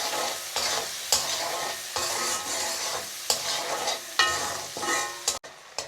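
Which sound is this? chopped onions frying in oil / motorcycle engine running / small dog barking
chopped onions frying in oil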